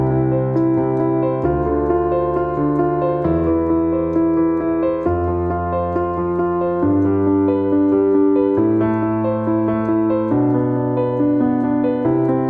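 Piano playing a quick, steady rhythm pattern with sustained bass notes and chords changing every second or so, loud and continuous with no voices.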